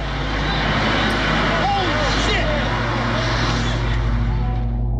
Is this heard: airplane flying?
yes